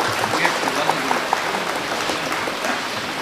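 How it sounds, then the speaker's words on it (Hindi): An audience at an award ceremony during a mushaira poetry gathering gives continuous applause with scattered sharper claps, while voices carry faintly underneath. "एक जोरदार ताली से इन अवार्ड के लिए डॉक्टर बशीर बद्र अवार्ड आलोक श्रीवास्तव साहब को"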